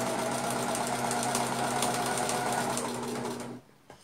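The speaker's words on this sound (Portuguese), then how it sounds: "a gente tem que ter capricho para costurar até, entendeu? Nessa parte que é para costurar em cima do risco" A sewing machine runs steadily, stitching a cloth doll's wing along a marked line, with a loud, even mechanical whir and rapid needle ticking close by that stops abruptly near the end.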